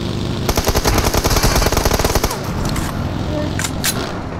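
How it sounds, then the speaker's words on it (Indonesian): Loud, rapid automatic gunfire in a video game: a sustained burst for about two seconds, then a quieter stretch with a couple of sharp single shots near the end. "Ini mau tembak, Mai."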